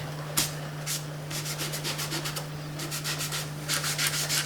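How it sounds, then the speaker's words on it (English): Rubbing strokes across a drawing to soften it, a series of short close scratchy swipes in irregular bursts over a steady low hum, with no talking. "I'm going to rub it in lines like this"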